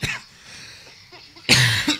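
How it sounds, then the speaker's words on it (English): One short cough bursts out at the start, and then a louder, harsher cough follows near the end, both close to the mic during a beatboxing session, with quiet, muffled sound between them. "I coughed like right in the middle of it"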